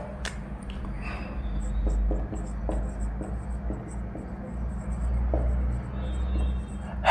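Marker or chalk scratching on a classroom board during a chemistry lesson on IUPAC naming, with soft intermittent strokes and taps over a steady low hum.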